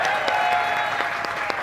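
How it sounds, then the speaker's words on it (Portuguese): An audience claps in a hall, a dense, steady round of applause with many hands close together and a few sharper claps standing out. "essa hora que vocês batem muitas palmas"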